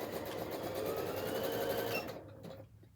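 A sewing machine with speed control running fast in a steady, close whirring drone, then slowing and stopping near the end.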